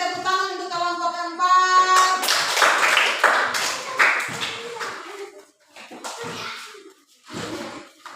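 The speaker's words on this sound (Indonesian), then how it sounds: "kalau begitu tepuk tangan untuk kelompok 4." Elementary classroom pupils clap for a student group in a loose patter of handclaps with rhythmic bursts, mixed with children's voices and a short sung or chanted phrase at the start.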